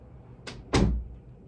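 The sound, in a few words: door being closed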